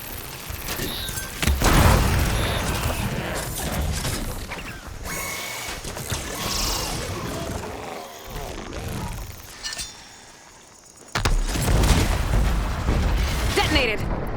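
Explosions in Horizon Forbidden West, Burning Shores, Los Angeles, burst in loud booms and crashes amid a noisy fight with machines, with a sharp blast near the start and another heavy one late on.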